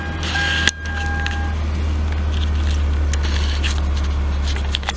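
A high-mileage car with its original motor and transmission cold starts on a cold December day, a sharp crank catching into a steady, loud idle rumble that holds close and constant after the start.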